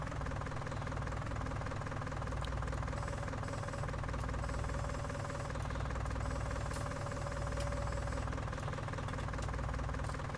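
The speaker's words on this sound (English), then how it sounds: "This little John Deere skid steer is pretty much the little engine that could." A small John Deere skid steer in Farming Simulator 19 runs steadily, its engine giving a continuous low chugging rumble with a faint knocking pulse, loud and close with no voices.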